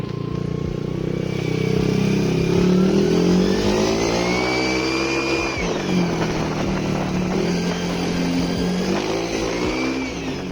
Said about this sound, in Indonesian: Nih coba kalian lihat pas gua tes akselerasinya.